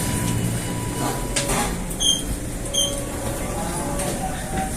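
A commuter train at Tanah Abang station in Jakarta rumbles steadily amid busy platform noise, with a couple of brief chime-like tones cutting through the constant din.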